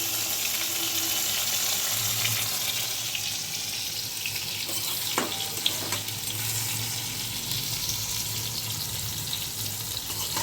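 Brinjal (eggplant) frying in oil, a constant loud sizzling hiss close by, with a couple of faint clinks partway through and no talking.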